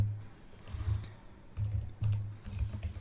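A computer keyboard types a bootrec command while fixing a Windows 11 blue screen error. Soft, uneven keystrokes come close up, in clusters over a low background hum.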